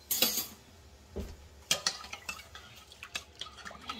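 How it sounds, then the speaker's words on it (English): A spoon stirs carrots and onions in an Instant Pot, giving a few soft scrapes and light metallic clinks against the inner pot, quiet and close with short gaps. "I give that a stir real quick."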